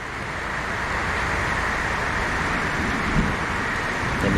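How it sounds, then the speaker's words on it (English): Steady rain falls in a garden by a fig tree, a close, even hiss that holds without a break. "Bit of rain isn't gonna harm anyone."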